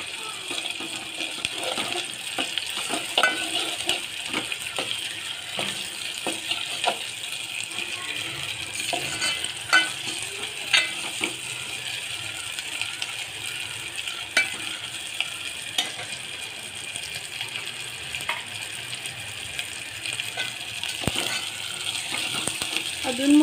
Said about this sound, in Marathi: अजूनमधून असं हलवून घेऊया, नाही तर आपलं वाटण खाली लागणार